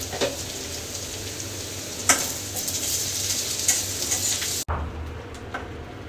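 Steady loud sizzling of hajj leaves frying with egg in a pan, with occasional stirring clatter, close up and continuous until a brief break near the end, no talk.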